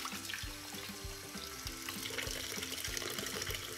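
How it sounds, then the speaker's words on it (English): Glutinous rice being rinsed under a running kitchen tap, with a steady stream of water splashing into a sink and soft clicks of grains and bowl throughout, close and continuous. "we're gonna rinse the glutinous rice for several times"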